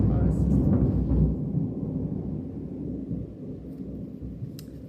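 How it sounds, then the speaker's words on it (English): Low rolling thunder rumbles through a storm, loud at first and then fading into a long, softer grumble. "So we have a bit more thunder."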